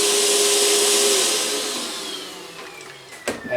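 A Milwaukee M18 backpack vacuum runs at speed 1, its steady motor whine and airflow gradually easing in level. A short knock of wood pieces being sucked up comes near the end.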